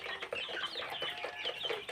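Two-month-old native desi chickens clucking and chattering nearby on a farm, several birds overlapping in a busy, continuous stream of short calls.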